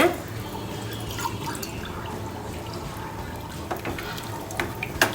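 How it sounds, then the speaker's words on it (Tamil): Water from boiled mutton poured into a pot of biryani masala, a steady liquid splash and gurgle with light sizzling underneath, close and fairly quiet. "இந்த மட்டன் வேக வச்ச தண்ணியை ஃபஸ்ட்டு ஊற்றிடுங்க."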